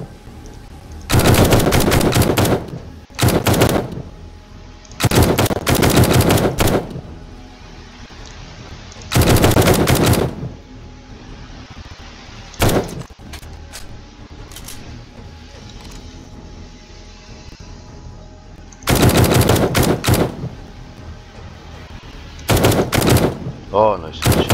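Bursts of automatic gunfire ring out loud and close during a horde night in the survival video game 7 Days to Die, several sustained volleys separated by short pauses and a few single shots.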